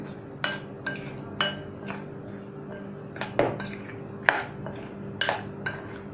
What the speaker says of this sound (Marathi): आपण आता हे सगळं ह्याच्यामध्ये टाकायचे आणि चांगलं मिक्स करून घ्यायचं आहे